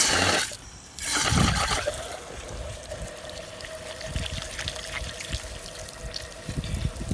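Water splashes and trickles as deck finish is rinsed off a brush, a steady wet running sound with a brief louder gush near the start, heard alone at close range.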